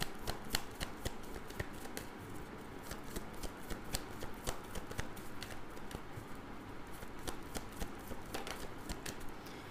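Tarot cards being shuffled for a reading, a steady run of crisp riffling snaps close by, with no voice over them.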